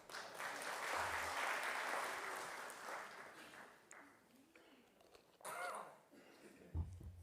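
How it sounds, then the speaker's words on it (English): A crowd applauds steadily at a regional state address, a dense wash of clapping that swells and then fades, with a few scattered claps near the end. "please clap hands for that"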